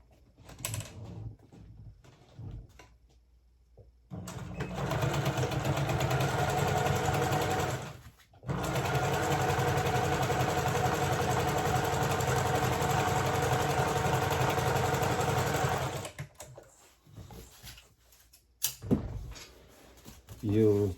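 A sewing machine stitches plaid fabric for men's pants in a steady, close, buzzing run that lasts several seconds, stops briefly, then resumes in a longer continuous stretch, with quiet handling noises before and after.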